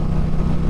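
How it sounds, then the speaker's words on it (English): Indian PowerPlus 112 V-twin engine on a 2025 performance bagger motorcycle, a loud, steady low rumble held close up for under a second with no talk. "The PowerPlus 112 roars to life."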